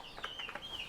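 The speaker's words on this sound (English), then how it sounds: "I heard there are birds back there" Birds chirp and cluck faintly in the background, a few short calls scattered across a steady high hiss, heard near a computer setup with no talk.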